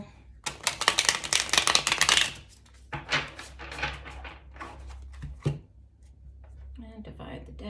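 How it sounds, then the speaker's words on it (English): A tarot deck being shuffled by hand in bursts of crisp riffling and card slaps, close and fairly quiet, with a voice speaking between the bursts. "we'll do one last shuffle."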